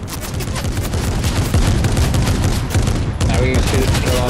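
Rapid, continuous gunfire in Fortnite, dense volleys of loud close shots in a steady automatic rhythm, briefly pausing before resuming.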